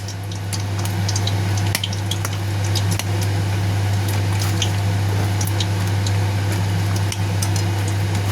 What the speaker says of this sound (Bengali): দেখো মাছের মাথাগুলো কিন্তু সুন্দর করে ভেঙে দিচ্ছি